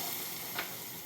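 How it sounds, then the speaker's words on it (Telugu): Water is poured into a hot pan of semolina and sugar while halwa is being made, producing a dense, continuous sizzle with one brief surge, close and steady throughout. "ఇది ఈ వాటర్ దీనిలో పోసేసింది. అప్పుడు ఆ సౌండ్ వస్తుంది అన్నమాట."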